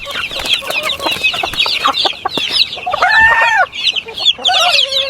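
Several chickens cluck busily while a rooster crows loudly twice, the calls close and overlapping in a noisy flock.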